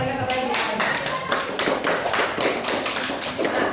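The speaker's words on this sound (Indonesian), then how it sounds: "berikan dulu tepuk tangan untuk kelompok matahari, ya" Classroom applause for a student group during a teaching session, a steady stretch of many hands clapping with dense, even rhythm at moderate loudness, carrying on alone for several seconds.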